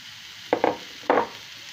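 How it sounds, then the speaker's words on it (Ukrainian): Three quick bursts of sizzling, two close together and one a moment later, over a faint hiss, as oyster mushrooms hit a hot pan. "Я розігріла сковорідку і висипаю гливи."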